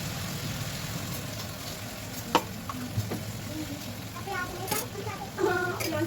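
Spice paste frying in a pan at home, a steady sizzle and crackle with occasional stirring clinks and a few sharper spatters, moderately close.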